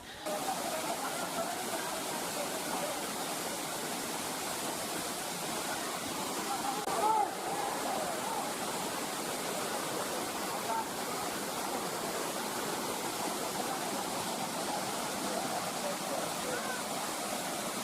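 Katiki waterfall in the Araku valley roars in a dense, unbroken wash of falling water that holds a steady level the whole time, with faint voices now and then beneath it.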